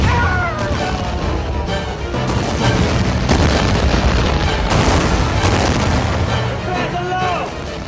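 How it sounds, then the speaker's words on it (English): A mortar shell coming down and exploding on a battlefield, heard as a loud, dense roar of blasts and crashing debris that continues throughout, with voices shouting faintly underneath. "It's a mortar. And it's coming down!"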